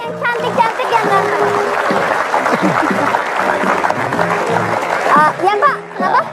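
School students in an audience applaud as a dense, continuous wash of clapping mixed with children's voices and crowd noise, loud and close throughout, with a few voices standing out near the end.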